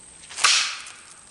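A single sharp crack from a Crosman Diamondback .22 caliber pellet rifle firing a pellet through two stacked pieces of OSB board, a brief hissing snap that fades quickly in an otherwise quiet spot.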